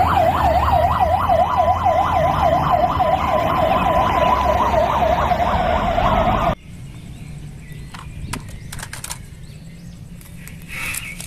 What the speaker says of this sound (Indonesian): Wih, lihat teman, ada mobil pemadam kebakaran.